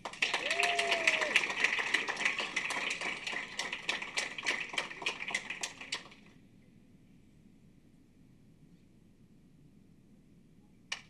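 Audience clapping for a third-place trophy winner at a state student leadership championship, a full round of applause lasting about six seconds, then cutting off to quiet room tone with one stray clap near the end.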